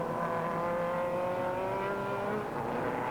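Stryker race cars roar down the main straight at Mondello Park, a loud continuous engine drone with rising and falling pitch as they pass, kicking up dirt.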